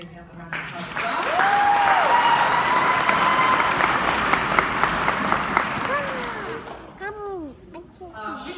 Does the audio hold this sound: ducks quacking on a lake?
no